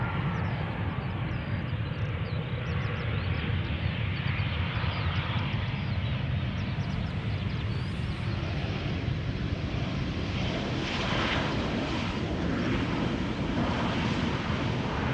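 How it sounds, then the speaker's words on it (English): EasyJet airliner arriving from Stansted, a continuous broadband jet roar heard from a distance with wind noise across the microphone and no voices. "EasyJet having arrived from Stansted."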